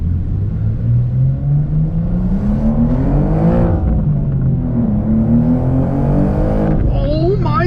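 A rear-wheel-drive BMW M2 G87 accelerates hard, its engine note climbing steadily in pitch through a gear, dropping briefly, then rising again, loud and close from inside the cabin, with a high tire or road whine near the end.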